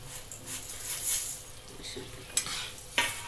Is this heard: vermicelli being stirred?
yes